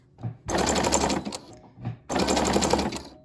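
A sewing machine stitches a fabric key fob in two loud, close bursts of rapid needle chatter, each over a second long. It halts briefly between them with a soft clunk, and no voices are heard.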